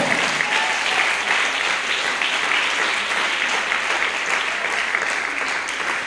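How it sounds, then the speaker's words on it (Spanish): Church congregation applauding during a sermon, steady dense clapping from many people sustained for several seconds without pause. "Y un aplauso para Jesucristo."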